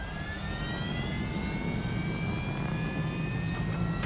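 A fighter jet's afterburner roars in the video game Call of Duty Infinite Warfare, a loud steady rumbling thrust with a rising whine, continuous throughout.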